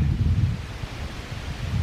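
Steady wind buffeting the microphone, a low rumbling roar with gusts that swell and ease, no voices present.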